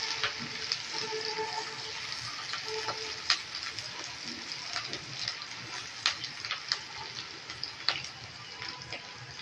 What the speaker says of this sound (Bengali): তেলটা গরম হয়ে গেছে, আমরা পেঁয়াজ কুচিটা দিয়ে দিচ্ছি, সঙ্গে আমরা মরিচ কুচিটাও দিয়ে দিচ্ছি